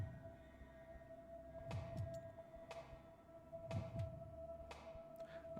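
Slow, muffled double thumps of a heartbeat in the video game Fears to Fathom: Home Alone pulse a few times over a low steady hum, with faint clicks in between.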